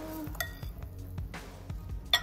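A spoon stirring grated carrot raita in a bowl, producing soft repeated clinks and scrapes in a steady rhythm, faint and close, ending with a sharper tap.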